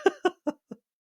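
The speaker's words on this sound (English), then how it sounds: "Sorry, I had to cough." Four short, sharp coughs come in a quick, evenly spaced run and grow weaker each time, then fall into silence.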